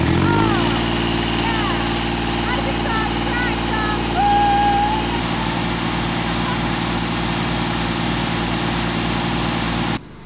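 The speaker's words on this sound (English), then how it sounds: "Peacock versus mower." A ride-on tractor mower engine runs steadily while mowing the grounds of a French chateau, a loud continuous low drone with harmonic whine; brief voices and bird-like calls rise over it midway before the engine note shifts near the end.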